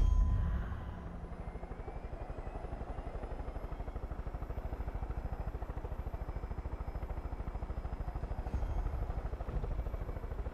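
A helicopter in the game Far Cry 5 thrums steadily with a fast, even rotor chop and a whining turbine, sustained and moderately loud, with no talk.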